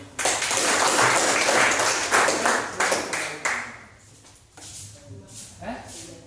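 Students in a classroom applaud after a science lesson, a dense burst of clapping that fades after about four seconds into scattered shuffling, with voices audible toward the end.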